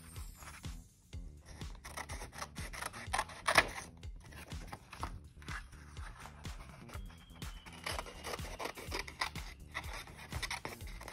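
Scissors cut out a paper shape up close, giving many quick, crisp snips in an uneven rhythm, with paper rustling in between.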